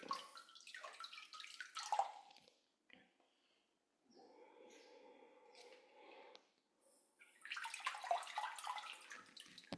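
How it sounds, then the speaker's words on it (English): Water splashes and trickles as feet are rinsed in a foot soak bucket, in irregular bursts of sloshing with a quieter running stretch between, close by and soft. "We're going to go ahead and rinse our feet now with the water."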